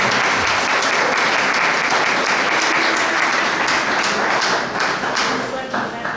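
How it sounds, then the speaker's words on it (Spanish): A church congregation gives a loud, sustained round of applause at a Sunday midday service, dense clapping filling the room for several seconds before tapering slightly at the end. "vamos a darle un aplauso fuerte a los que participaron"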